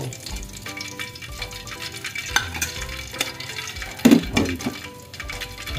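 Food sizzles and crackles steadily in a frying pan nearby, with occasional clinks and scraping of a utensil stirring.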